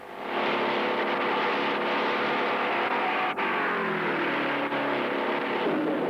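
AMC Javelin Trans-Am race cars roar at racing speed, a loud sustained engine drone with shifting revs and brief dips as cars pass, steady and close throughout.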